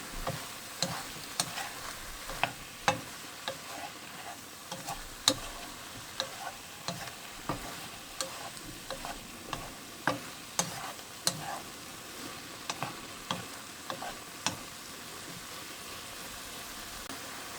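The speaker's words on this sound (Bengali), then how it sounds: "এবার মিক্সড করব।" A spoon scrapes and taps against a pan while spiced vegetable batter with turmeric and salt is mixed, sharp regular clicks ticking over a soft wet background, close and unhurried.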